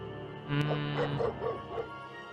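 In the video game Nancy Drew Ghost Dogs, a robot dog gives a short run of soft, tonal yips and barks with a faint mechanical whine, moderately quiet and fairly close.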